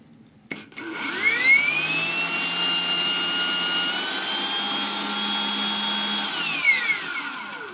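A PRO-CRAFT PKA-40Li cordless saw, which had not been switching on, starts its motor with a click and a rising whine, then holds a steady, close high-pitched hum for about six seconds before winding down.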